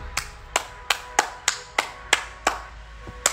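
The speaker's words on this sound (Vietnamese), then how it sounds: "Vỗ tay đi, vỗ mạnh nào." Hands clap sharply in a steady, even rhythm, about nine distinct claps spaced roughly a third of a second apart, close and clear with no talking.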